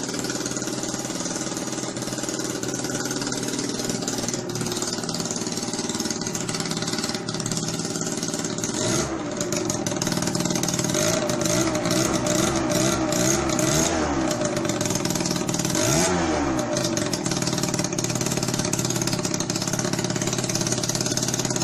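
A Yamaha Neo's scooter engine with a holed exhaust pipe runs steadily and loudly up close, a raw buzzing idle that rises briefly with a few revs, with no talking over it.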